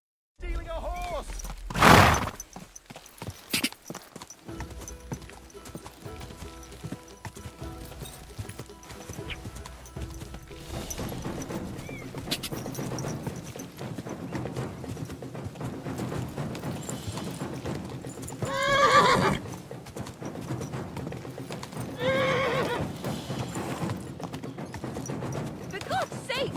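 A horse's hooves clip-clop in a steady galloping rhythm in Kingdom Come: Deliverance II, with a couple of loud neighs and whinnies rising above, while voices shout and talk over much of the ride.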